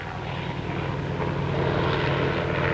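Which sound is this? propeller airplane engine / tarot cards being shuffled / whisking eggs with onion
propeller airplane engine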